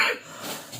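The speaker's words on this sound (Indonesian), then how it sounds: "Mohon maaf karena batuk." A single short cough from someone speaking in Indonesian, bursting out loud at the start and trailing into quiet room tone.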